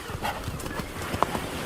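Hooves of wild horses on Sable Island, a remote North Atlantic island, clip-clopping in a soft, uneven rhythm, with one sharper knock standing out near the end; the steps are faint against quiet background noise.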